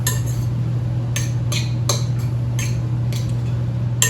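A spoon clinks and scrapes irregularly against a bowl as a cheese-bound filling for stuffed chicken breast is mixed, the close taps sounding over a low, steady background hum.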